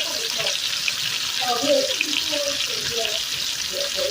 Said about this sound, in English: Browning that beef.